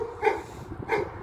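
A large dog of over 30 kilos gives two deep barks about half a second apart, close and moderately loud, with no talking.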